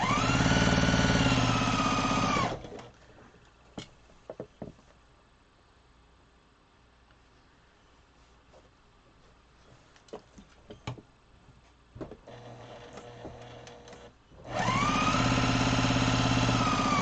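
A sewing machine stitches star garden quilt pieces in two loud, steady bursts of motor whir at the start and end, with quieter handling clicks and taps during the long pause between.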